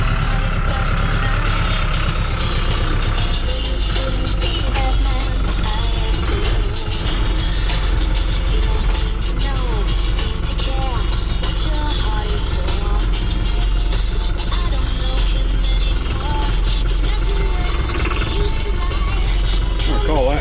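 A big tractor engine runs steadily throughout dirt work beside a greenhouse building, a loud constant low rumble with occasional clanks and rattles, and a voice can be heard over it at times.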